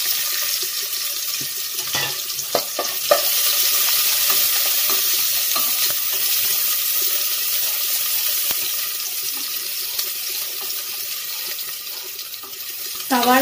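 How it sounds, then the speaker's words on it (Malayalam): Sliced onion fries in ghee with whole spices, giving a continuous bright sizzle with scattered pops and the scrape of stirring, moderately close and steady. "സവാള അരിഞ്ഞു വെച്ചിട്ടുള്ള സവാള ഇട്ട് കൊടുക്കാം."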